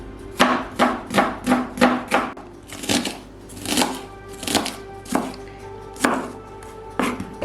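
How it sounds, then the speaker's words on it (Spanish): A whole onion is chopped on a cutting board for stuffed aubergines with minced meat, giving a close, regular run of knife thuds, with a brief pause partway before the chopping resumes. "Primero cortamos una cebolla entera."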